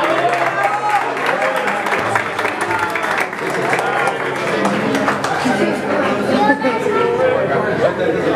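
An audience applauds the mariachi band at a quinceañera celebration, loud sustained clapping that mixes with crowd chatter and cheering voices throughout, with people talking over it.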